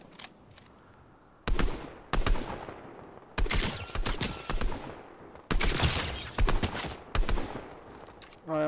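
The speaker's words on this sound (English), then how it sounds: "You got people shooting you." Gunfire in Fortnite Zero Build squads: several loud bursts of rapid shots in irregular clusters, some near and sharp, others trailing off, with short quiet gaps between the volleys.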